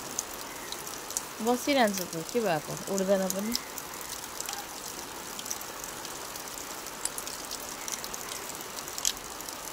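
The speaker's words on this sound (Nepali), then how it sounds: "पानी यस्तो पर्दैछ।" Steady rain patters and trickles over a kitchen garden of young corn plants, a continuous soft hiss throughout with a person speaking briefly near the start.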